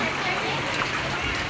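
Heavy rain driven by wind pours down steadily in a dense, constant wash of noise that stays loud and unbroken from start to finish.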